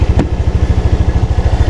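A Honda Click 150 scooter engine idles close by with a steady, rapid low-pitched putter, loud and even throughout, with one brief click near the start.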